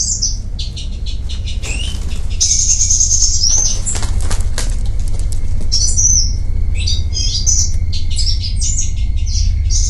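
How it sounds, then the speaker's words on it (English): A frantic flurry of flapping wings with sharp, panicked thrush calls and chirps from birds trapped on lines at a bird-trapping site, close by and continuous over a steady low rumble. "From inside we hear a flurry of wings and panic bird calls."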